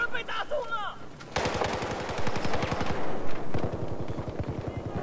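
A suppressed MG4 machine gun in Battlefield 4 fires in fast, sustained bursts, loud and close, with a short pause between strings of rapid shots.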